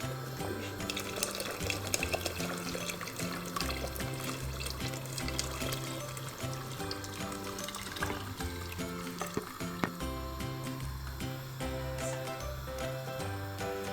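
Water pours into a cooking pot for harira soup, a steady running splash lasting throughout, layered under a rhythmic background music track with no speech.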